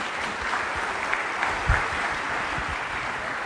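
Audience applause welcoming Dr. Richard O'Neill to give a morning plenary talk, a steady wash of clapping from a seated crowd, fairly even throughout with a few sharper claps near the end.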